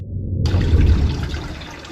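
Water gushing onto a cooling vest as it is soaked, a short loud burst of pouring and splashing that starts abruptly and keeps running steadily.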